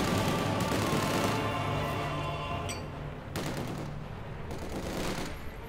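An anti-aircraft half-track in the Company of Heroes 2 strategy game fires sustained rapid bursts, with dense battlefield gunfire and booms layered around it, loud and continuous.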